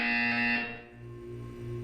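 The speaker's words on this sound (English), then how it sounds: "When you hear the buzzer, look up at the ceiling." A steady electronic buzzer tone from the video game Portal 2 sounds loud and sustained, then shifts to a lower droning hum as it continues alone.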